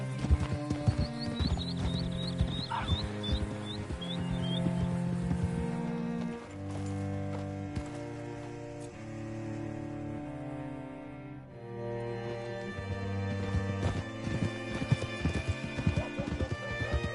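Hooves clip-clop in a quick galloping rhythm over a backdrop of music in Red Dead Redemption 2, with a horse whinnying early on.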